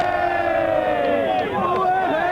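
A stadium crowd at a student rugby match between Scotland and Ireland lets out a big sustained roar, loud and continuous, with a commentator's voice running over it.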